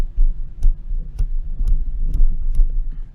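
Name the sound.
clicks of Simorr Wave U1 microphone gain knob turned down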